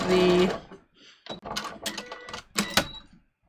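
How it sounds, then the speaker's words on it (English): A sewing machine stitching through lining fabric and pleats, heard in short close bursts of mechanical whirring separated by pauses and softer handling noises. "I'm just stitching through the lining fabric and"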